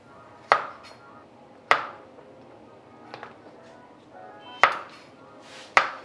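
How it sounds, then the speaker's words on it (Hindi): Five sharp, separate knife chops on a cutting board as the heads and tails are cut off okra (bhindi), each a crisp close tap with quiet gaps between. "सबसे पहले हम भिंडी का ये हेड और ये टेल ये रिमूव कर लेंगे सारी भिंडी का।"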